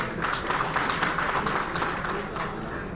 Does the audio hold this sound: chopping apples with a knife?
no